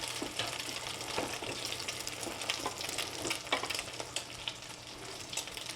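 Egg-dipped bread slices frying in a pan for savory French toast, a soft, crackly sizzle with small pops throughout, fairly quiet and steady, without speech.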